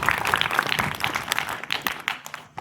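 Applause from children for their classmates' output-device models at a school event, a brisk burst of clapping that thins toward the end, moderately loud and unaccompanied by speech.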